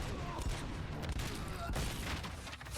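Pistol fire in the video game RoboCop: Rogue City, a dense run of shots and booms filling the clip with heavy, loud game combat noise, mixed with other effects.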